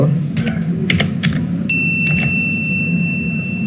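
Several quick clusters of computer keyboard typing, close and clicky, over a steady low hum, followed by a brief bright chime.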